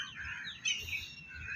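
Birds in an outdoor scene with ducks, swans, sparrows and crows chirp and tweet, a run of quick calls close by, fairly clear over soft ambient noise.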